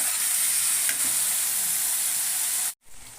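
Green chili and ginger fry together in a hot pan with a loud, steady close sizzle and hiss that breaks off abruptly near the end, then resumes more quietly.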